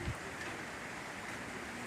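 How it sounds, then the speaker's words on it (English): Rain falls outdoors as a soft, steady hiss of drops, continuous and fairly faint, with a brief low thump at the very start and no voices. "That rain is cold."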